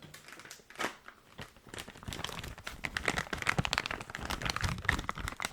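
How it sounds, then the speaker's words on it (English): Soft crinkling of packaging while another item is fetched for ASMR, a close, quiet and continuous rustle with small crackles and no talk. "Some crinkling sounds as I procure another one."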